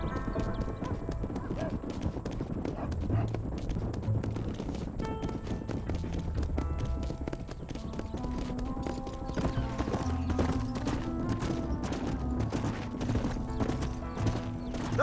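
Horses gallop in Red Dead Redemption, a dense run of hoof clip-clops with occasional whinnies, steady and fairly close under a layer of music.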